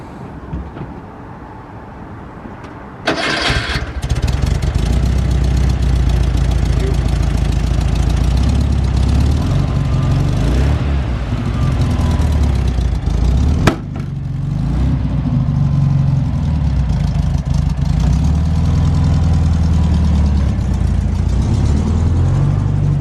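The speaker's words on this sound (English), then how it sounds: "we're gonna go ahead and start it up for you" A 1972 Volkswagen Thing with its aftermarket exhausts cranks and fires up, then settles into a loud, steady, rumbling idle close by.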